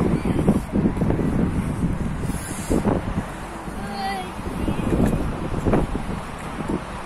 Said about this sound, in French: Il y a un vent énorme